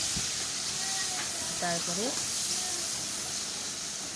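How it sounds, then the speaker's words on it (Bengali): Onions fry in a pan with a steady, even sizzling hiss, heard under a voice speaking briefly and faint tonal sounds nearby. "পেঁয়াজটা ভাজা হচ্ছে"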